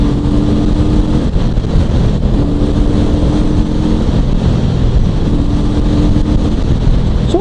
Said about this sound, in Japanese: ちょっと開け閉めしてみますね、アクセル。